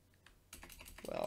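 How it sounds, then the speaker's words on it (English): Keys clatter on a computer keyboard as a router's IP address is typed into a web browser, short close clicks that thicken into a quick run toward the end over a faint steady hum. "Now by typing this in"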